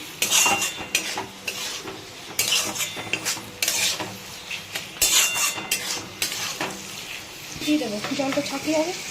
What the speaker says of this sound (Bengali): এখানে আলুটা দিয়ে হালকা একটুখানি কষিয়ে নিচ্ছি